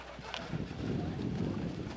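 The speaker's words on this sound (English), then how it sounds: "the horse and buggy going across" Horse and buggy clip-clopping past at Fayette Historic State Park, a steady run of hoof beats at moderate distance.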